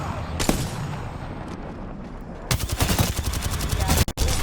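Gunfire in the Apex Legends Winter Express mode: one sharp shot, then a sustained rapid burst of automatic fire over the last two seconds, loud and close.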